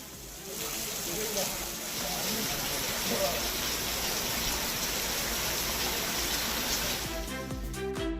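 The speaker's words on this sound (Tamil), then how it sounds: "மேல்மலையனூர் மற்றும் அதன் சுற்றுவட்டார பகுதிகளில் காற்றோடு கனமழை பெய்தது" Heavy rain driven by wind pours steadily in a broad, hissing wash that fills the scene, fairly faint overall, and then cuts off abruptly near the end.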